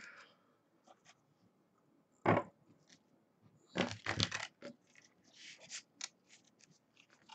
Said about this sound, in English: shuffle the cards a little bit more